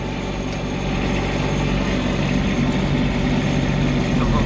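Bobcat 453 skid steer engine idling, a steady close mechanical drone with a light rattle, constant and unbroken, no voices.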